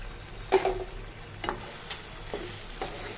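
Chicken rezala masala with raisins, dried plums and tomato sauce being stirred and sautéed in a pan, soft sizzling with a few distinct spoon scrapes spaced about a second apart.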